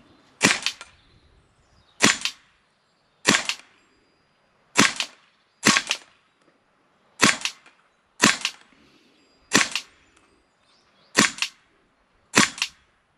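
An HK MP7 A1 gas blowback airsoft gun fires eleven sharp, evenly spaced single shots, each a crisp close crack with a brief tail, separated by quiet gaps of about a second.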